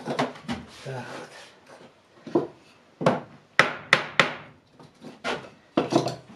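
Hammer strikes drive nails into wooden lining boards on a house wall, several sharp close knocks in irregular bursts with speech between them.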